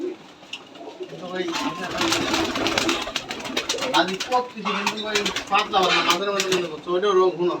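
Rajshahi Giribaz pigeons coo and murmur close by, with soft wing flutters and people talking over them throughout.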